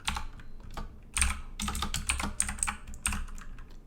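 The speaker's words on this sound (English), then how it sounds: "Once again, sorry for the slow typing." Computer keyboard typing in uneven bursts of close, crisp key clicks with short pauses between, unhurried and slow.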